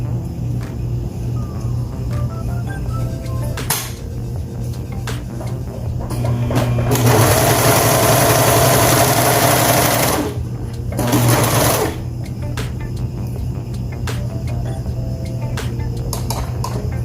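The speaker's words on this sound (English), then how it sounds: "now I'm just gonna serge the short ends" A serger machine runs in bursts while finishing the short ends of baby pants fabric, a loud, fast mechanical buzz rising for several seconds, pausing, then resuming briefly amid softer handling clicks nearby.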